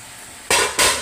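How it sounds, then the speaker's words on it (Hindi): Okra is dropped into a pan of hot, coarse onion masala, setting off two sharp, loud bursts of sizzling in quick succession. "अब हम इसमें डालेंगे भिंडी।"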